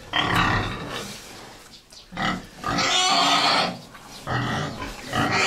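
A sow grunts repeatedly in a farrowing shed with her piglets, several loud close bursts of low grunting broken by short pauses.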